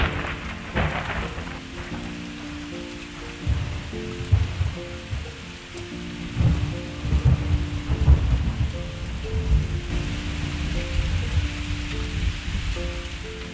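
Heavy, steady rain pours down while low thunder rumbles roll through, with soft tonal music playing underneath throughout.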